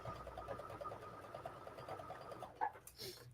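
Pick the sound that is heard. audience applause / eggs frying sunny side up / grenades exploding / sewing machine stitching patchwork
sewing machine stitching patchwork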